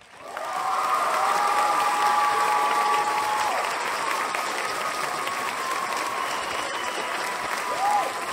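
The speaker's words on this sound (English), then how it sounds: "So a round of applause," A large audience breaks into dense, sustained applause that swells quickly and stays loud and even for several seconds, with some cheering mixed in.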